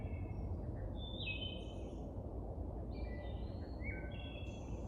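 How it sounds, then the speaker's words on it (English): Bird song drifts in as a few faint, flutelike phrases from a wood thrush on the Appalachian Trail, heard at a distance over a steady low outdoor rumble. "The wood thrush."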